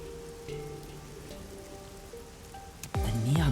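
Steady rain patters on surfaces in a neon-lit city district in the video game Master Detective Archives: Rain Code, a soft continuous hiss under faint background tones, with a louder low rumbling swell near the end.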